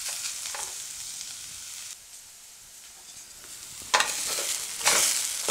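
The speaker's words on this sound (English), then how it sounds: "And we are going to saute it." Vegan mincemeat sautéing in peanut oil in a frying pan, a soft sizzle broken by scraping stirs, with brief louder bursts of frying hiss near the end.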